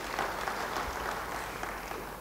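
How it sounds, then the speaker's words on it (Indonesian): A church congregation applauds in a steady, even wash of many hands clapping, moderately faint, sustained for a couple of seconds without talk. "Sekali lagi beri tepuk tangan bagi dia."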